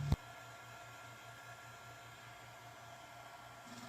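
A heat gun blowing on a sticker stuck to a wooden pallet, a steady quiet hiss of airflow with a low motor hum, starting after a brief click and running unchanged throughout.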